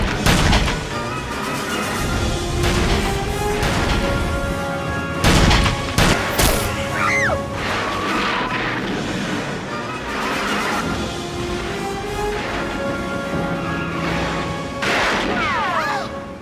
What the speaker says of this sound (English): The gunfire is something that has definitely been changed and updated.